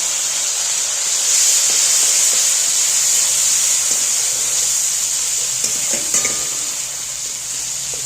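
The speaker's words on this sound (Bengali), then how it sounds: "মশলাটা একটু ভাজা ভাজা করে নিলাম" Spices and ginger paste crackle and hiss in hot oil with a bright, constant sizzle, punctuated by a few stirring clinks, close and loud with no talking.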